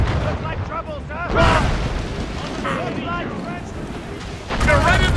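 Ship cannons firing in the video game Assassin's Creed Rogue, heavy booming blasts over a constant roar of sea and battle, with shouting voices throughout.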